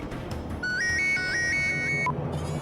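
A telephone ringtone after a number is dialed plays a short rising and falling electronic melody in a few repeated phrases, clear and moderately loud over a faint room background.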